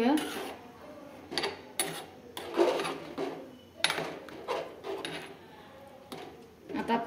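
Masala rice being stirred in a pot after hot water is poured in, giving irregular scraping and clinking knocks of a utensil against the pot, close and moderately loud, with quiet gaps between strokes.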